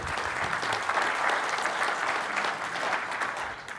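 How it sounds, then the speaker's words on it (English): Audience applause at a VMware technical conference session, a dense, steady wash of clapping from a crowd lasting several seconds without talk. "big round of applause for Humair"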